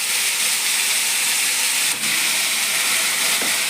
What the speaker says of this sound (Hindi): टमाटर जो हुआ था डाल दिया मैंने अब इसको इसी में।